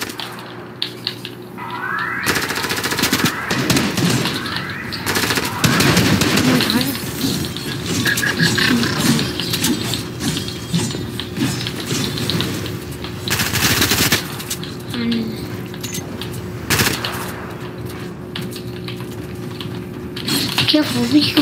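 Gunfire in the video game Fortnite: repeated rapid bursts and single loud shots scattered across a long stretch, mixed with game noise and people talking over the action.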